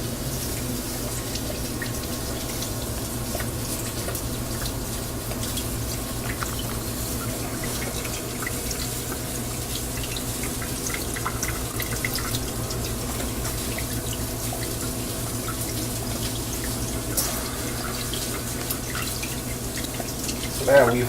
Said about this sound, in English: We're going to add 1 bottle of balsamic vinegar.